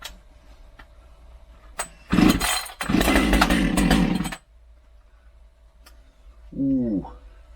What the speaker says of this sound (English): maybe I should have warmed my saw up